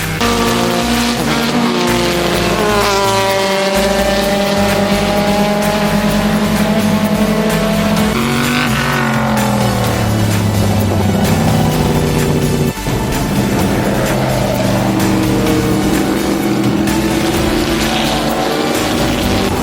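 Race cars, including an old Ferrari Indy car, run loud on the track at a speed festival. Engines rise and fall in pitch over the whole stretch as cars pass close by, and tires squeal at moments.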